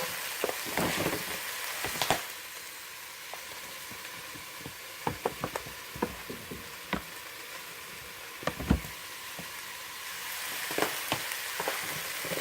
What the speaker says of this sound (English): now I'm going to add the soaked rice